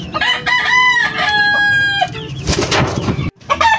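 A rooster crows loudly nearby, followed by chickens clucking and a brief flutter of wings.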